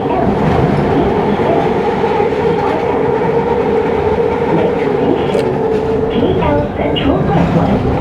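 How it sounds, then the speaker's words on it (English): An LRT train runs at a station platform in Kuala Lumpur, a loud, close, continuous rumble of wheels and cars with faint squeals and clicks. A voice speaks over it. "So I'm in the LRT station on the platform and about to head south to Taman Jaya."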